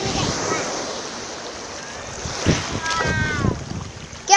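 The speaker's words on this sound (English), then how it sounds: "Let's try and jump over the waves." Sea waves wash onto a Yorkshire beach with an incoming tide, a soft steady surf hiss with gusts of wind on the microphone, while children call out and shriek between the swells.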